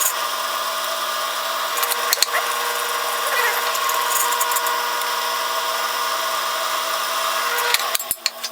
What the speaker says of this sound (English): Alright, now drill these.